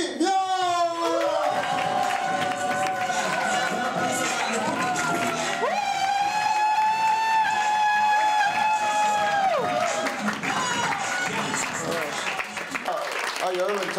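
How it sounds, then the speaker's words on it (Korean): An audience applauds and cheers as a comedian is introduced on stage, loud continuous clapping and crowd noise mixed under bright fanfare-like music that plays throughout. "여러분 큰 박수 함께 모셔볼게요"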